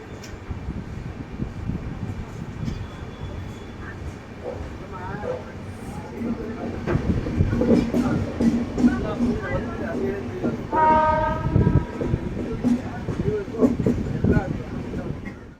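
The Lalbagh Superfast Express passenger train, with LHB coaches, rolls along from Bangalore with steady rumbling and clatter, a horn-like tone sounding briefly, while people talk nearby throughout.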